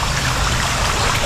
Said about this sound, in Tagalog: Ayan, lakas ng agos